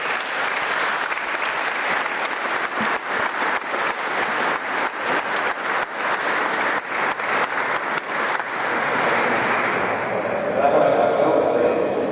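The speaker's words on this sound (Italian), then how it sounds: "che vi invito a salutare con un applauso" An audience at a choir concert applauds the choir's conductor with sustained, even clapping that tapers off near the end as the hall quiets.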